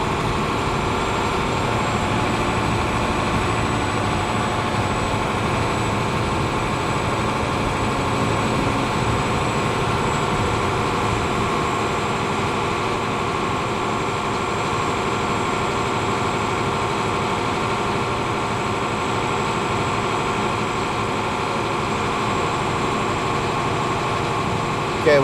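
A truck engine idles steadily as the air brake system charges up, a loud, even low rumble with a faint high whine above it, unchanging for the whole stretch.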